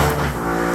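Motorcycles pass by outside on the street, a loud, steady engine drone that fills the whole short stretch with no talking.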